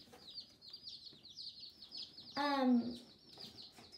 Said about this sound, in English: we got 12 baby chicks in here